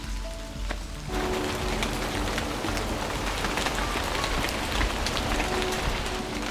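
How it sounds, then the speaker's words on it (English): Rain falls steadily on a forest trail, a dense even patter and hiss that swells after the first second and carries on unbroken, with no voices. "Spent about 3 miles out here in the rain."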